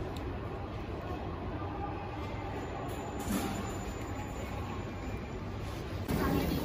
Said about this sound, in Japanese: 今回はその列車を終点の会津若松まで乗っていきます。